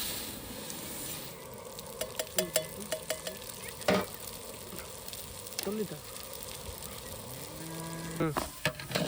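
Mung dal fries in ghee in a hot kadai with a steady soft sizzle and occasional stirring scrapes, while a cow lows several times nearby.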